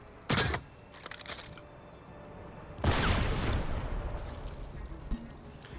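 Bow shots fire in Fortnite Save the World against husks, every hit landing as a critical. Two sharp, loud bursts come about a second apart, then a third heavier blast tails into a sustained rumbling wash.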